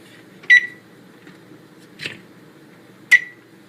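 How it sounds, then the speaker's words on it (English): Oven on a home kitchen range being switched on and set to 350 degrees: three short electronic beeps, one near the start, a softer one in the middle, and one toward the end, over a low quiet hum, with no talking. "So I'm going to turn my oven on to"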